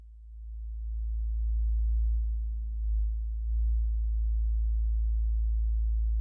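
A deep, steady bass tone from a Behringer mini synthesizer hums continuously, swelling slightly and holding a low sustained pitch for several seconds with no voices.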